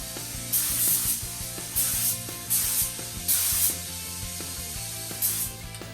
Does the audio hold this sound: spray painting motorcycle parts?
yes